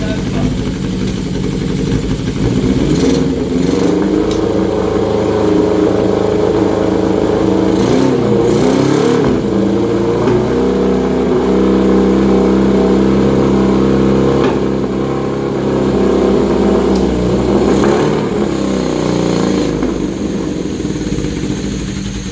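A Honda CB550 cafe racer motorcycle engine, still untuned and with choke problems, runs close by in a steady low rumble with occasional small rises, and people talk under it.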